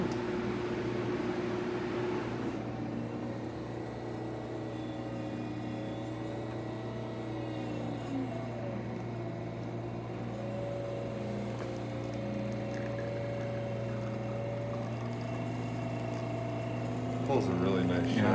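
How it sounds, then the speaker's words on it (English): A Vesuvius espresso machine pump pulling a shot hums steadily throughout at moderate level, with a low constant buzz and faint shifting tones, briefly louder near the end. "Today we're testing this beautiful Vesuvius espresso machine."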